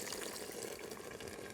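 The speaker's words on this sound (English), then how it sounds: "last thing I want to add is just a splash of water" A short, faint splash of water pours into a pressure cooker holding beef, a soft continuous hiss of liquid lasting just over a second, with no voices.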